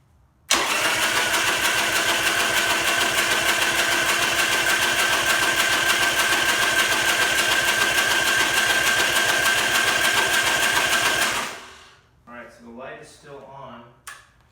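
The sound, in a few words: Buell XB12R motorcycle engine cranking and starting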